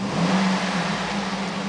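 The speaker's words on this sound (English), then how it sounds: "I'm going to rev the engine." A 2007 GMC Yukon Denali's 6.0-liter V8 hums steadily at close range, a dense low engine tone that holds even for under two seconds, with no voices.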